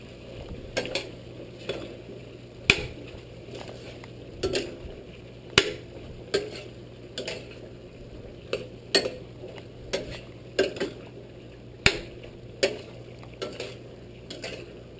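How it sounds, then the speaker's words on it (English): Ground beef stirred in a pan for giniling na baka, with a utensil scraping and tapping the pan in irregular sharp knocks over a steady low sizzle, close and without speech. "Stir."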